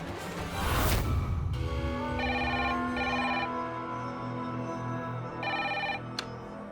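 A telephone rings indoors in a Hindi TV drama scene, sounding two bursts of bright electronic trilling over a low hum after a short swoosh.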